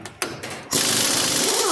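A pneumatic impact gun loosens a nut on a wheel hub assembly: short bursts start things off, then a loud, steady, near rattling hammer runs with no talk over it.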